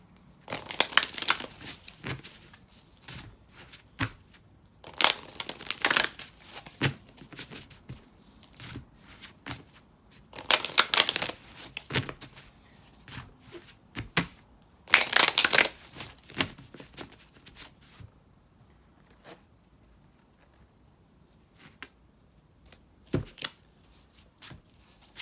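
An oracle deck of Moonology cards is shuffled, with soft riffling and papery slapping in irregular bursts, some brisk and crisp, others faint, separated by quiet pauses.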